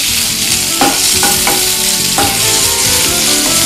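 Coriander leaves frying in a pan for sesame chutney, a steady broadband sizzle with a few sharp stirring scrapes and clinks, close and fairly loud, no talk.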